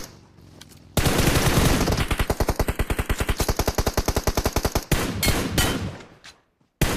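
Sustained automatic gunfire from PUBG Mobile, a loud rapid burst of evenly spaced shots lasting several seconds, followed by a few scattered single shots and a short pause.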